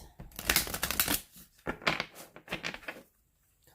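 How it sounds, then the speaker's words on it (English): A deck of cards being shuffled by hand in a quiet room: three or four quick riffling bursts, close and crisp, separated by short pauses before falling silent. "I'm going to shuffle the cards"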